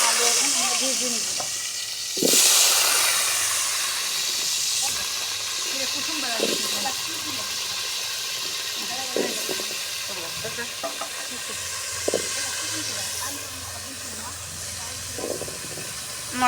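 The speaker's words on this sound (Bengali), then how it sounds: "আলু এখন আমরা ভেজে নিব।" Boiled, peeled potatoes frying in hot oil in a pan, giving a loud, steady sizzle and hiss that runs continuously, with a sharp burst early on and occasional stirring clatter.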